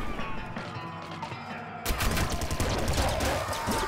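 Rapid gunfire sounds in the Nuclear Throne video game, a dense stream of crackling shots and impacts that bursts in loudly partway through over quieter game noise.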